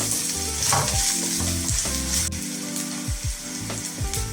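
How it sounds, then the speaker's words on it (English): Onions and garlic sauté in cooking oil in a pan, with a loud, continuous sizzle and the scrape of stirring, close up and steady throughout. "Add the onions and cook till translucent."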